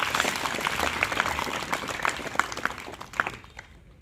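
Applause from a school audience at a Gandhi Jayanti assembly, welcoming a senior teacher, Shri Pachauri. Moderate, steady clapping runs for a few seconds and then thins out toward the end.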